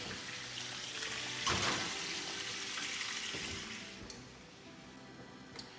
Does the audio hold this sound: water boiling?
yes